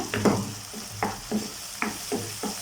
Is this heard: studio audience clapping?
no